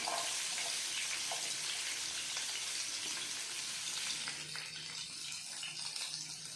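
Small onions sizzle steadily in hot oil in a pan while cooking a Kerala chicken curry, a continuous close hiss with no talking.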